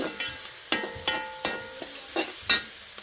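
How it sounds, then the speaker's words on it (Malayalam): Pepper chicken sizzling in a pan as a spoon stirs it, with several sharp scrapes and clinks against the metal at an uneven pace. "നന്നായിട്ടൊന്ന് ഇളക്കി കൊടുക്കുകയാണ്"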